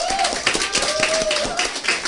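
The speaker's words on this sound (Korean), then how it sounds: "감사와 찬양과 영광의 박수를 올려드렸습니다." Clapping from a church congregation during a Korean Sunday worship service, a steady patter of many hands with faint voices mixed in.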